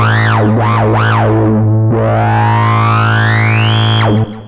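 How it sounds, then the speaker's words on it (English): A synthesizer tone through a soft clip distortion model on a Korg NTS-1 mkII, warm and gently saturated, sweeps up and down in wobbling pitch bends, then glides steadily upward before cutting off. "some fantastic distortion models. Soft clip"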